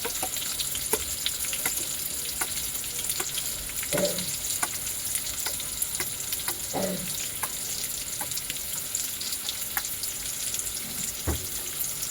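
Oil heats and fries in a kadai while chicken is cooked, a steady sizzle with scattered crackles and a few louder scraping stirs, close by and without speech.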